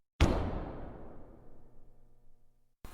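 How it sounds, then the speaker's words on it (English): A single loud thud or crash hits a plane roof, a radio-drama effect of zombies striking it, then decays into a long rumbling, rattling tail over about two and a half seconds before a second impact begins. "so that noise was zombies hitting the roof."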